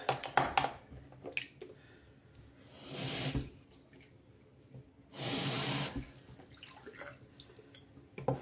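Tap water briefly running over a makeup brush to rinse it, two short bursts of splashing separated by quieter handling and small drips.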